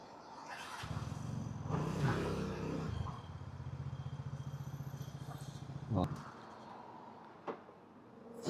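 Big motorcycles pass along a scenic road, a rising and fading engine drone with a couple of louder swells and clattering bursts, heard from nearby beneath some background voices.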